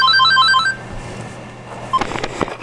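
A cell phone rings after being dialed through a MagicJack free phone service, a repeating electronic ringtone of short beeping bursts in the first moments, then a brief tone later amid faint room noise.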